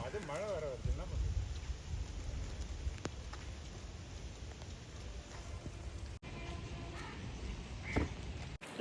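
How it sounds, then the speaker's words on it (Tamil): Monsoon rain falls steadily in Chennai, a constant hiss across the whole stretch, with a few bird calls near the start and no distinct thunder rolls. "அது மழை வர வருது"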